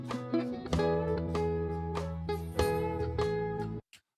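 Guitar plays the third lick of a song's solo: a short phrase of picked and rolled notes with strong attacks at a steady pace, ringing clearly alone before cutting off abruptly.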